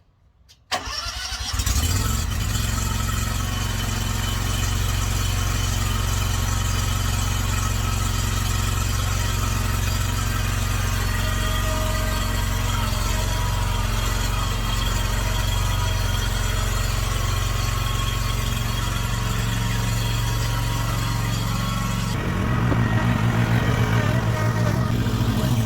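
A Wright Stander B 36 stand-on mower engine cranks and catches within the first couple of seconds, then runs at a steady, loud, continuous drone for the rest of the clip, the pitch shifting slightly near the end as the throttle changes.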